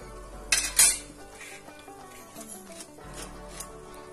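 Til karanji, sesame-filled Maharashtrian pastries, frying in hot oil with a steady soft sizzle, a couple of sharp utensil clanks early on, and faint stirring and spoon scrapes against the pan.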